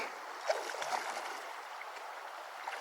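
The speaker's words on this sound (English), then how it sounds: "now we gotta cross this creek" Creek water in the Alpine Lakes Wilderness, Washington, gurgles and rushes steadily over stones nearby, a continuous flowing wash with small splashy bursts and no voices.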